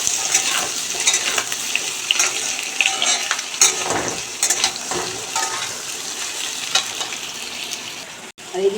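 Potatoes fry in a pan while being stirred: a soft, continuous sizzle close by, broken by scraping and clinking utensil strokes.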